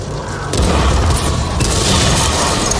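A tank gun fires in World of Tanks: a loud, heavy boom bursts in after a moment of quieter rumble, then holds as a dense, sustained roar with a low mechanical undertone.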